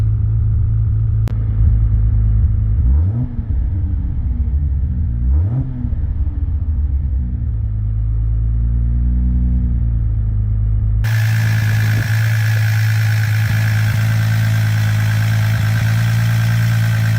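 A 1993 Toyota Supra Turbo engine idles with a deep steady rumble, revs sharply twice and then settles back to a low, even idle. The sound is loud and close, and no one speaks over it.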